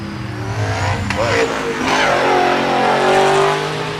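A car engine revs hard and roars continuously up close, the pitch climbing and falling through throttle blips over a rough low rumble, with voices at a car show in the background.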